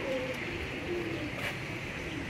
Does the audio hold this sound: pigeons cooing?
yes